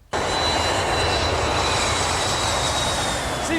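A fixed-wing airplane engine roars loud and close, a dense, steady drone that starts abruptly and holds without letup, with no voices over it.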